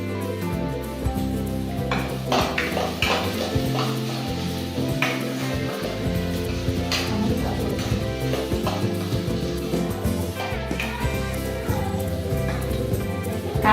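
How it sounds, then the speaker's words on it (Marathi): Onion and garlic sautéing in a pan for a sabudana usal, with a steady sizzle broken by repeated clinks and scrapes of a spoon stirring against the pan, continuing without pause. "कांदा आणि लसूण मस्त आता आपला परतून झाला."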